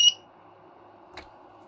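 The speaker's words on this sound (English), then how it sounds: "the proper way is you press and hold this for a couple seconds till it beeps at you" A UPS unit beeps as its power button is held: one short, clear electronic beep at the start, then near silence with a faint click.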